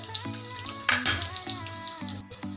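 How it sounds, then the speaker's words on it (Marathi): Mustard seeds, cumin and garlic frying in hot oil for a Maharashtrian tempering, a soft crackle beneath a tonal hum, with a brief louder burst of spitting near the middle. "थोडीशी मोहरी घालायची, थोडे जिरे घालायचे"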